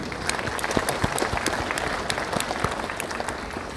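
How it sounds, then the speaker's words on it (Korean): Church congregation during a Sunday service in the main sanctuary breaking into applause, many hands clapping loudly with distinct individual claps popping out of the steady crowd sound. "여러분 박수."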